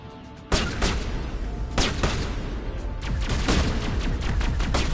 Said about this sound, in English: Let's bring their shotguns out and